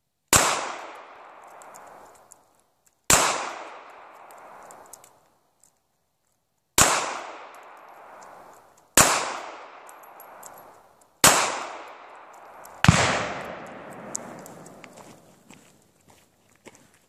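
Six sharp Smith & Wesson Bodyguard 380 pistol shots crack out one at a time, roughly two seconds apart, each followed by a short decaying echo at an outdoor range.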